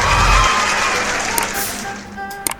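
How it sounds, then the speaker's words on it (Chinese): A brief burst of applause, clapping and light crowd cheer that swells at the start and then fades, with a couple of sharp accents near the end. "此处我觉得应该有掌声。"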